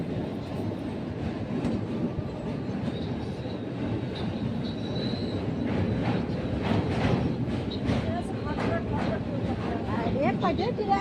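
Doon Express train number 13010 travelling from Bareilly, a steady rumbling clatter of wheels on track heard from inside the carriage, with faint squeals and rattles throughout.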